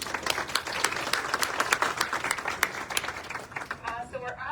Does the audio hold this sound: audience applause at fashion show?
yes